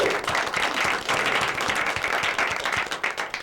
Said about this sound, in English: One more round of applause for our city service.